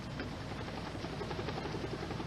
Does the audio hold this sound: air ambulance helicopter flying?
yes